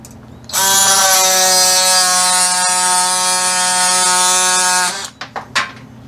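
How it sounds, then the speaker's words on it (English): A power tool cuts through a Nelson composite shim with a loud, steady, high buzzing whine that holds for several seconds, then stops and is followed by a few light knocks. "Takes a lot longer to cut through the composites"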